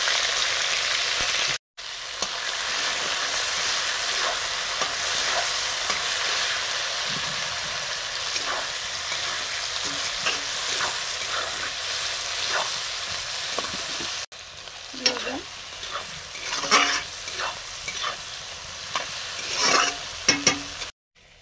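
Chopped onion and tomato sizzle steadily in a hot pan, with a constant loud frying hiss, scraping stirs near the start and end, and a brief gap where the sound drops out.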